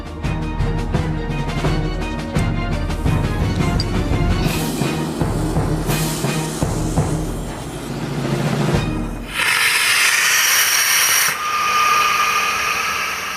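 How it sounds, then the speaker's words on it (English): Evacuation slide bag inflated by rocket gas used as a booster combined with compressed gas: loud, close rushing and roaring with rumbling and rattling, then an abrupt shift to a brighter, hissing blast of escaping gas. "This time I'm using the rocket gas as a booster and combining it with the compressed gas."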